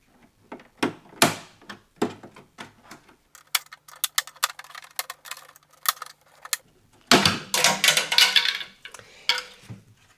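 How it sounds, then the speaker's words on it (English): A flathead screwdriver pries open the plastic filter cover on a BougeRV 3500BTU portable camping air conditioner, making sharp clicks, scrapes and taps in bursts, ending in a louder rattling clatter as the cover comes loose, close and without speech. "just take a flathead screwdriver to pry the cover open"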